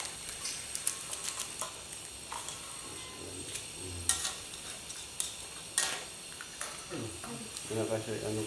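Cabbage and bean sprouts are stir-fried in a pan at night, with soft sizzling, scattered spatula scrapes and clinks of utensils against the pan, while people talk nearby.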